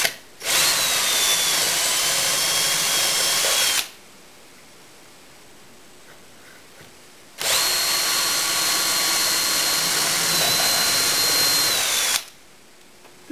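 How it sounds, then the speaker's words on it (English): A power drill whines loudly boring 3/8 inch holes into wooden table pedestal legs in two long bursts, each lasting several seconds, separated by a quiet pause. "I can go ahead and drill my 3/8 inch holes"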